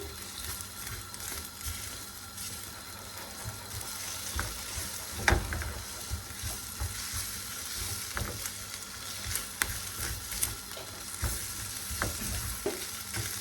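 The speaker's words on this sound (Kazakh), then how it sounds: "Қуырып аламыз." Eggs frying in a pan give a steady close sizzle and crackle, with occasional scraping and stirring knocks from a utensil, and no voices over it.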